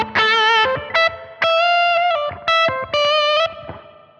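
Electric guitar solo played through a digital rig with distortion stacked on a Klon-style overdrive, bending sustained lead notes in several short phrases with clear gaps between them, loud and alone with no talking.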